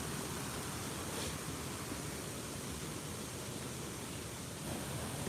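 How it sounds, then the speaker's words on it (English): Raging double waterfall roaring down, a steady dense rushing wash of water with no letup, heard alone. "It's actually a double waterfall"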